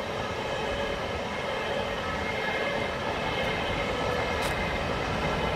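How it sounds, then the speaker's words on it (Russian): A train from Berlin rumbles steadily beneath a railway bridge at Jüterbog, Germany, a continuous, fairly loud wash of wheel and carriage noise with no talking. "Он поезд"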